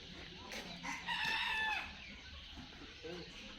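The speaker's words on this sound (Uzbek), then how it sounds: "mana tovuq ishqibozlariga tovuq bor ekan" A chicken at a zoo in Turaqo'rg'on, Uzbekistan, lets out a single rooster crow lasting under a second, fairly soft and at moderate distance, with quiet outdoor ambience and faint clucking around it.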